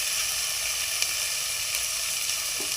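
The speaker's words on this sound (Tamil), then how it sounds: "இதில் வந்து தக்காளி சேர்த்துக்கலாம்" Tomatoes added to a pan of ginger and garlic fry with a steady, bright sizzle that stays loud and even throughout, with no talking over it.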